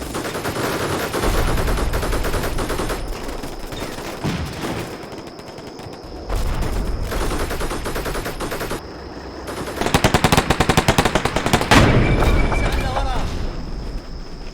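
Rapid machine-gun bursts and rifle fire crackle through a Combat Mission Shock Force airport assault, with Humvees laying down heavy fire support; the shooting comes in sustained loud volleys amid other battle noise.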